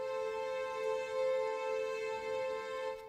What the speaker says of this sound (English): This over here is the Novo plugin by Heaviosity.